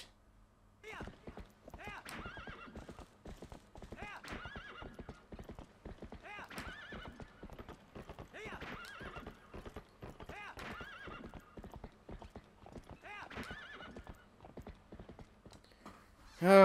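Horse hooves clip-clopping in a fast, steady rhythm with repeated whinnies and neighs in The Legend of Zelda: Twilight Princess HD, loud and continuous throughout, with a burst of other sound at the very end.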